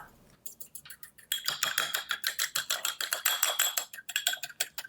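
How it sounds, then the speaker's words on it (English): Egg whisked briskly in a bowl for an egg wash, a fast even series of light clinking taps that starts after a brief pause and keeps a quick rhythm, close and clear without talk. "I'm just going to whisk up an egg to make an egg wash really quick."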